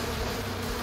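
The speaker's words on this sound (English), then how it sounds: "Is that bees?" A dense swarm of bees buzzes loudly and continuously, a steady close drone with no talking.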